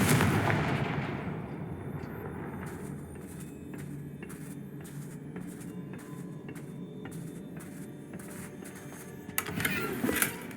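Confringo fire-spell explosions in the Hogwarts Legacy video game: a dense rumble of repeated blasts and crackling bursts rolling on continuously, with a louder flare-up near the end.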